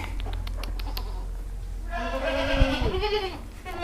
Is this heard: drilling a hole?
no